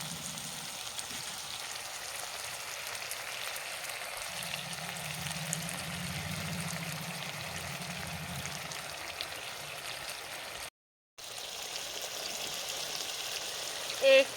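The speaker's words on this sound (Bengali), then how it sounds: "একটু জল এইভাবে ধুয়ে বাটিটা ধুয়ে দিয়ে দিতে হবে।" Water poured to rinse out a bowl of mustard paste into a pot of cooking chicken, a steady soft trickling wash that runs on for several seconds, faint and close, with a brief gap before it resumes.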